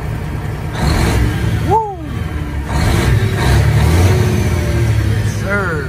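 A Freightliner Classic truck engine revs up as the throttle pedal is pressed on a fitted new pedal and throttle position sensor. The engine roars steadily and close by, while a man gives an excited shout over it.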